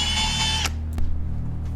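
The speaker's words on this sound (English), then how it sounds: "We repeated the process and drilled 4 pilot holes" A power drill bores a pilot hole into a live-edge wood slab, whining steadily and loud for most of a second before cutting off, followed by a couple of brief clunks and a low background hum.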